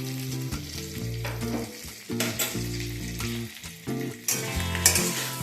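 Fried papaya and pointed gourd sizzle in spices in a pan while being stirred and tossed. The frying is loud and continuous, with irregular bursts of scraping and clatter from the stirring. No speech.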